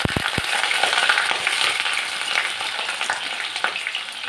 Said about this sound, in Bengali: পটলগুলো তেলের মধ্যে দিয়ে দিচ্ছি। পটলগুলো এখন ভেজে নেব ভালো করে।